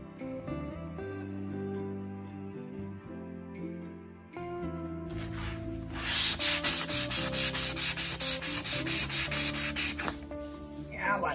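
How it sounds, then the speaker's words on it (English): A bronze dagger blade being ground down to take out a warp, with rhythmic rasping abrasive strokes that repeat loudly over steady background music. "So I'm gonna grind it down, try to get that warp out."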